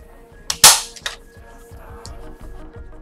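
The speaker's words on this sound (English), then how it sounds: "find that edge, and take my staple gun" A staple gun fires into fabric trim on an upcycled piece, giving one loud, sharp snap followed by a softer second clack and faint rustling as the material is handled.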